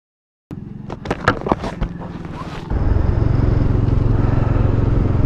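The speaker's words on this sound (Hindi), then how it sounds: "आज आए थे एक्सेलरेशन टेस्ट करने बाइक का" A Bajaj Dominar 400 motorcycle runs an in-gear acceleration test: sharp revving bursts at first, then a loud, steady, sustained engine roar with wind noise close by.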